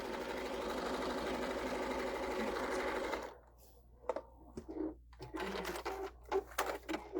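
A sewing machine stitches a quilt-as-you-go table runner with a floating foot, running at a steady, rapid whir for about three seconds before stopping, followed by scattered handling noises and a voice.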